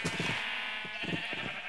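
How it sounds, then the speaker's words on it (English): Sheep in the video game Minecraft bleat several times in quick succession, short wavering calls heard close over a steady background hum. "Yeah, tons of brown sheep."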